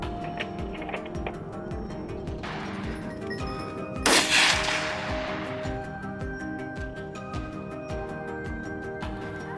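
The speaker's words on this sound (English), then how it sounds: "Before it could disappear into the underbrush, we fired again." A single gunshot is fired at a wild boar during a hunt. One sharp, loud crack with a fading tail cuts through a steady, rhythmic musical background.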